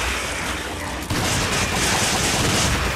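Dense, continuous gunfire from the video game Resident Evil 5, a loud wash of shots and booms that briefly dips and then surges again, with no voices.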